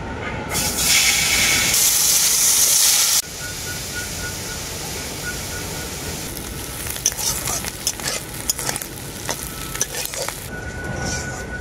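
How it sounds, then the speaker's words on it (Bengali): Small shrimp frying in mustard oil, a loud dense sizzle at first that drops to a softer crackle, with scraping stir noises and clicks toward the end. "এরপর আমি চিংড়ি মাছটা ভেজে নেব।"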